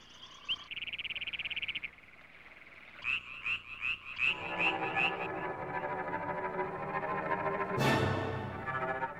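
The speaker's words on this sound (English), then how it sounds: "They are the urgent calls of adults seeking a mate. One croak can carry well over half a mile," Frogs croak mating calls in a dense chorus: a buzzing trill, then a run of rhythmic pulsed croaks building into a loud, layered wall of calls, with a sharp burst near the end.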